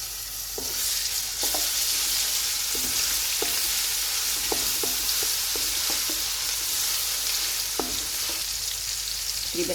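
Ginger-garlic paste fries with whole spices in hot oil for a beef korma, giving a steady, close sizzle broken by the scrape and clink of stirring at irregular intervals.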